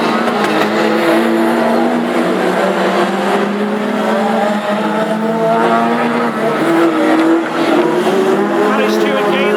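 Classic hot rod race cars roar around an oval track at Aldershot in a wet-to-drying heat, engines droning loud and continuous with shifting pitch as cars pass, tires occasionally squealing, and a commentator talking over the action.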